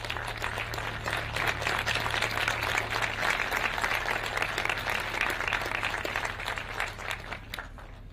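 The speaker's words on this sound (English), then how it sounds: "The Kantaria family gifting Her Excellency a round of applause" A crowd at a university launch event breaks into steady, dense applause as a gift is presented to a dignitary. The clapping holds fairly evenly for about eight seconds before thinning slightly at the end.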